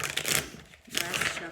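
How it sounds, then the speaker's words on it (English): A deck of cards is shuffled in two close bursts of riffling flutter with a short lull between them, heard up close and fairly quiet. "Last shuffle."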